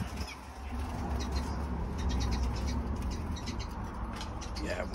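Pigeons coo in a bird pen on a frosty day, sounding as soft, low calls over a steady background of hum and rustle.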